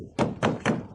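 Three firm, evenly spaced knocks on a door, close and hollow-sounding, followed by the start of a fourth.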